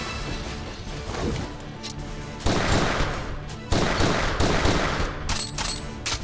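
Gunfire in the video game Final Fantasy Type-0 HD rings out in loud, rapid volleys of sharp cracks, with heavy bursts hitting hard and clustering close together, heard without talking.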